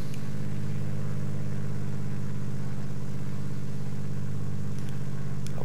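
Simulated Cessna 210 piston engine at full RPM in the X-Plane 10 flight simulator, a loud steady droning rumble that holds constant throughout with no voices.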